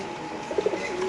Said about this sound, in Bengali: হোয়াইট রেসার কবুতর 1500 টাকা জোড়া, বড় সাইজ মাশাআল্লাহ।